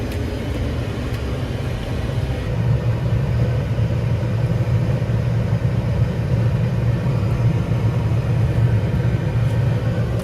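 A forage harvester cuts silage in a corn and forage sorghum field during farm work, giving off a steady heavy engine drone and low rumble. The sound grows slightly louder partway through and continues without a break.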